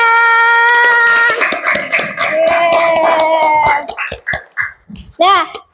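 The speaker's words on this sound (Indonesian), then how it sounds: "Semuanya tepuk tangan." An elementary classroom of fifth-grade children claps hands together, quick sharp claps under loud voices calling out, close and lively, breaking into scattered clapping near the end.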